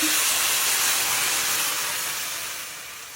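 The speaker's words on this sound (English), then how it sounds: "I'm going to put in the onions and carrots to fry them off" Onions and carrots fry in hot oil in a pan, a loud close hissing sizzle that bursts in at full strength and slowly fades over a few seconds, with no talking.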